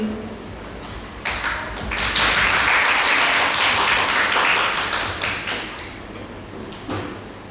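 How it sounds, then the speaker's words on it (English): An audience at a pharmacy practice presentation event applauds a presenting team, a dense wash of clapping that swells after a quiet start, holds loud for several seconds, then gradually thins out. "please give a big applause to this team."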